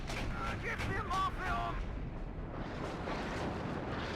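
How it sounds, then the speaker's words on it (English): Salvo of PACT howitzers, mortars and multiple rocket launchers in the video game WARNO, rumbling blasts and booms layered over a steady roar, with a few faint tonal whines early on, no clear separation between shots. "So let's fire 3 salvos at parallel."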